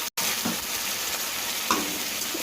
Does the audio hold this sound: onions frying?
yes